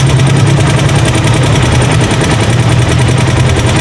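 Rusi Chariot 175 trike motorcycle engine running at a steady, rapid, throbbing beat, loud and close, continuous throughout with no talk.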